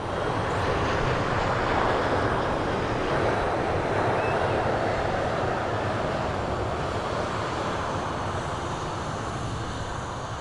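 An Eastern Airways ATR turboprop taxiing out at Manchester Airport, heard as a steady, broad, fairly loud engine rumble and roar holding level for the whole stretch, with no talk.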